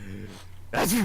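A sharp sneeze bursts out loud and close right after a brief spoken phrase, with a rising then falling vocal sweep.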